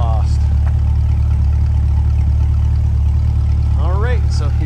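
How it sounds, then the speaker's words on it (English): A 2021 Corvette C8 convertible idles with a steady, deep, loud exhaust rumble that runs unbroken throughout, while a person speaks over it. "listen to that exhaust"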